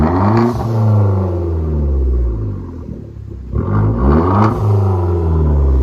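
Turbocharged 2010 Hyundai Genesis 2.0L with dual exhaust on straight pipes, deep rumbling revs rising and falling with sharp blow-off valve releases between them, loud and close.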